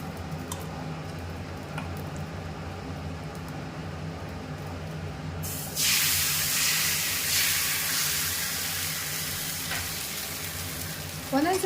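Oil poured into a hot pan for neer dosa, a low background crackle that suddenly bursts into loud, dense sizzling and hissing partway through, continuing steadily.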